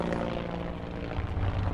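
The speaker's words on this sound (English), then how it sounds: "rush straight to see the helicopter flying overhead" A helicopter flies overhead in a Tomb Raider 2 remake built in Unreal Engine, a steady rotor and engine drone mixed with ambient game sound throughout.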